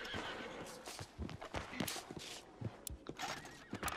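A horse in the Red Dead Online video game whinnies and neighs after being shot, with hoof clip-clops and scattered gunshot-like bangs throughout a busy in-game scene.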